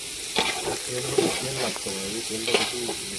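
Onions fry in hot oil with a continuous sizzle while a utensil stirs and scrapes the pan in repeated strokes, close up, with no talking.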